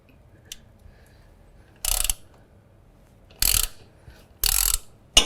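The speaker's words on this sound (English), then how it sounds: "Now I've gone ahead and put an extension here on my ratchet" A ratchet with an extension loosening the oil filter on a John Deere Z730M zero-turn mower engine, three short bursts of rapid clicking spaced apart, close and loud against near silence.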